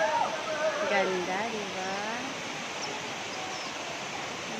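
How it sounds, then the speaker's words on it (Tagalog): Mantayupan Falls in Cebu gives a broad, steady roar of falling water, loud and unbroken, under voices talking over it at the start. "Dito kami sa falls"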